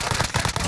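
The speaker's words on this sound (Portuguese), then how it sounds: "os caras estão atirando a gente" Rapid enemy gunfire in Call of Duty, a quick burst of sharp, crackling shots in a fast, even rhythm, loud and close for less than a second.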